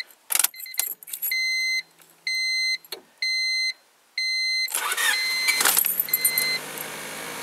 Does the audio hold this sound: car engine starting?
yes